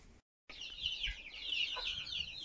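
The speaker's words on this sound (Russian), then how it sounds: "Кстати, интересная новость с курочкой Павловкой." Farmyard hen clucking close by, a stream of soft bubbling clucks and murmurs after a brief gap of silence, quiet overall with no talking.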